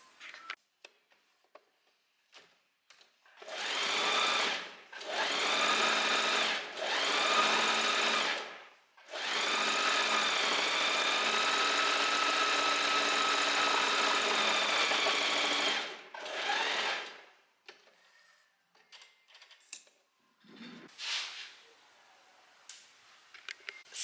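A home sewing machine stitching dress fabric at a long stitch length with the needle set to the right, running in several steady whirring bursts separated by short pauses, close and clear with no talk.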